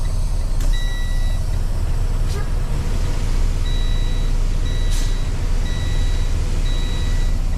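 A semi-truck hauling double trailers idles and rumbles loudly at close range while pulling out, with intermittent high reversing-style beeps repeating in short bursts and a few brief air hisses; no voices.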